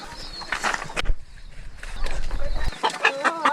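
Excited clucking and squawking from a rooster being caught, close by, with scuffling and commotion around it.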